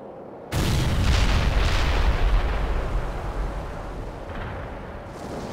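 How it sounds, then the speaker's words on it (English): Artillery strike explosions in the Cold War strategy game World in Conflict, a sudden heavy boom followed by a long rolling roar of blasts that slowly fades, with a fresh distant burst near the end. "Commence artillery strike. Requesting artillery."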